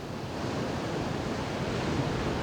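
Ocean surf breaks at a surfboat racing beach, a broad continuous roar of churning water and wind, steady and fairly loud with a slight swell after the first half second, no voices.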